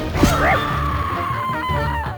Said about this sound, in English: when she loses, she just lets out like a banshee wail